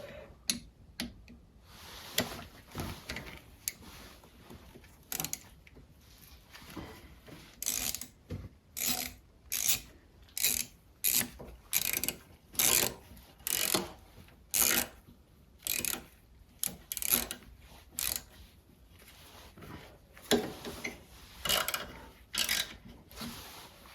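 Ratcheting wrench tightening bolts on a Motostandard 1010 motorcycle gearbox, giving repeated short bursts of fast mechanical clicking with brief pauses between strokes, close up and fairly loud, with no talking.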